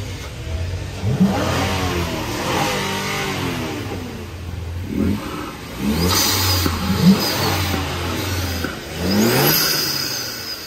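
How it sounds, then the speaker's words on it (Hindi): An SUV engine starting and revving, one of a BAIC BJ40 and a Nissan Patrol on red sand: an engine turns over, then several loud, close rising-and-falling revs come in bursts with short pauses between. "तो अभी आगे तो गाड़ी स्टार्ट होने जा रही है,"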